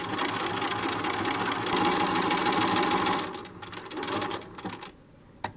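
A sewing machine running steadily as it sews decorative stitch number 7 on pillow fabric, its motor whirring and its needle tapping rapidly and close by, then slowing and stopping with a few final clicks.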